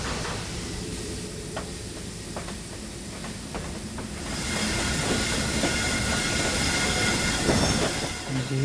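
The fire-damaged locomotive of the Kapotaksha Express rolls along the rails, its wheels clattering and squealing steadily before the rumble grows and it slows to a halt.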